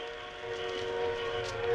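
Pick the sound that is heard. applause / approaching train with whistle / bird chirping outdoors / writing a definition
approaching train with whistle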